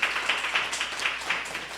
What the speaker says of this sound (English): So I want to give another round of applause to the judges.